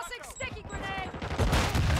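A thrown grenade explodes in Call of Duty MW2 during an online match, a loud burst near the end after voices and game chatter, overlapping other gunfire.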